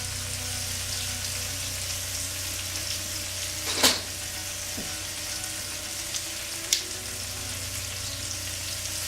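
Burgers and brats sizzle on a George Foreman 15-serving indoor/outdoor electric grill, a steady close hiss running throughout with a couple of brief clicks and knocks.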